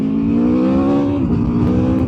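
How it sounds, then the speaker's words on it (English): A new Aprilia RSV4 1100 Factory motorcycle idles loud and close while the throttle is lightly blipped, the engine note rising briefly and dropping back over about two seconds, with nobody talking. "I'm literally just tickling that throttle."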